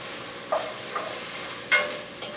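Onions browning in a pan, a low continuous sizzle with a few quick stirring scrapes, close and fairly quiet.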